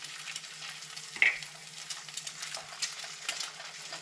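Quail eggs fry in a pan with a steady, soft sizzle and crackle throughout, faint and close, with one brief clink near the start.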